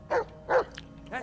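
A dog barks in the Blair Witch video game, three short close barks spaced about every half second, the last one softer.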